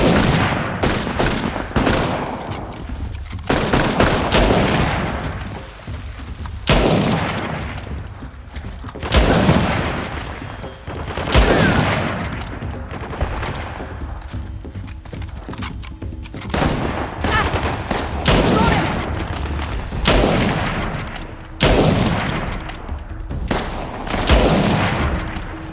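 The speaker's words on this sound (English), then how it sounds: "Open fire!" Gunfire during a firefight in Uncharted: The Lost Legacy, repeated loud bursts and volleys of shots with brief lulls between them, mixed with booming impacts, running continuously.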